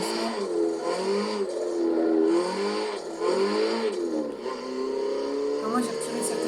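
Opel Astra H OPC from 2006 driven in the racing game Forza Motorsport 7, its engine droning and rising and falling in pitch continuously throughout, with a voice talking over it.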